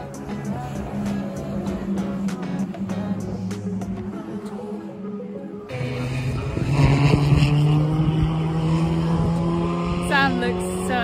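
Race cars compete at Thruxton circuit during a summer racing festival, engines droning and shifting pitch as they pass at a distance, growing louder midway, with voices talking over the noise.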